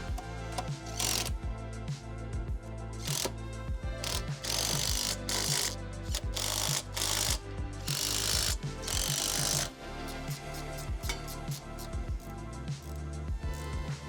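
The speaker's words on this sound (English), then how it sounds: "Tightening these cross tube to side plate 3/8" bolts to 37 pounds." A ratchet wrench tightening 3/8-inch cross tube to side plate bolts while installing an EcoHitch trailer hitch on a 2013-2017 Nissan Altima, heard as rapid repeated clicking strokes in bursts with short pauses, close and clear.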